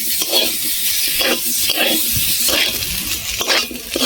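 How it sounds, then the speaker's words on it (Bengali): Cauliflower and potatoes fry in oil in a pan, a loud continuous sizzle broken by repeated scraping stirs of a spoon against the pan, with no talking. "কপি আর আলু ভালো ভাজা হয়ে গেছে। কপি থেকে আলু থেকে তেল ছেড়ে দিয়েছে।"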